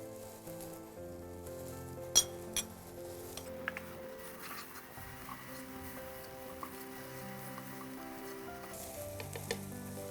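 Chopped celery and leeks sweat in a pan with a soft, steady sizzle, quiet and close, broken by a few light clinks and stirring taps.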